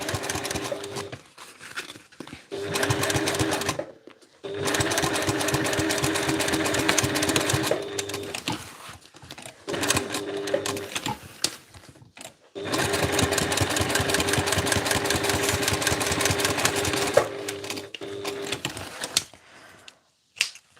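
A sewing machine runs top stitching in several bursts, each several seconds long, separated by brief pauses, with a steady, close, rapid mechanical whir.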